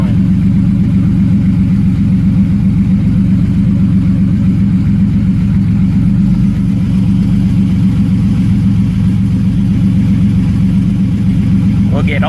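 A turbocharged 3400 V6 in a swapped Pontiac Fiero idles loudly and steadily at close range, a continuous low rumble throughout, with people talking over it.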